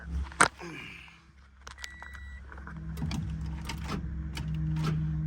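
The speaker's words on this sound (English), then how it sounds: "That engine sounds like a locked up engine to me." Mechanical clicking and clattering from a locked-up engine of a Mercedes SL 500 being cranked, irregular metallic ticks over a low steady hum, fairly faint and close.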